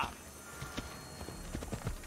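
Faint horse hooves clip-clop in the video game Assassin's Creed Odyssey, a soft, uneven patter of steps under a quiet, steady background hum.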